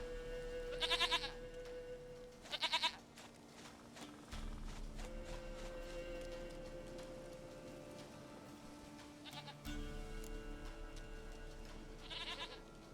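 Several short goat bleats from The Witcher 3 sound at intervals, fairly close, over a sustained game music drone with shifting low tones; no speech.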